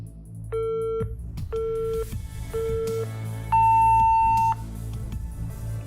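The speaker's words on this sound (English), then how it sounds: "That was the rest timer notification" A fitness app's rest timer notification sounds as three short, identical electronic beeps at a steady one-per-second pace, then one longer, higher tone, clear and prominent over a faint background hum.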